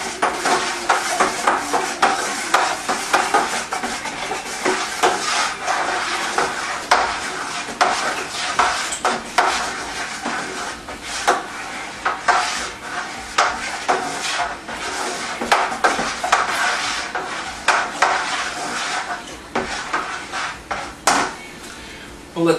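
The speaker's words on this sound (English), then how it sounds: "we're going to keep stirring until we don't hear the sugar on the bottom anymore" A strawberry passion cooler is stirred with sugar grating along the bottom of the container: a steady, busy scraping and clinking that runs continuously, close up, with no one speaking.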